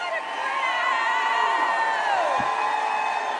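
A large rally crowd in Phoenix, Arizona cheers, whoops and shouts in a loud, sustained roar with individual high yells rising above it.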